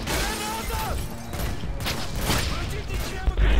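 Sustained gunfire and battle noise from a Modern Warfare 2 Spec Ops match, a dense, loud continuous barrage of shots and explosions with no gaps, ending in a heavier thump.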